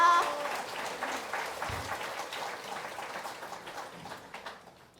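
An audience claps during the 1200th session of a Saturday lecture, a burst of dense applause that starts strongly and gradually thins into scattered claps as it fades.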